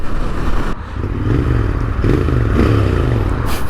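A Royal Enfield Interceptor 650 motorcycle pulls hard through the gears up to fifth, a loud engine drone with a brief dip at a shift, then rising again under heavy wind rush.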